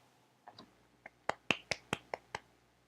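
A short run of sharp claps, about nine in quick succession, close and crisp, growing louder then tapering off, with no talking.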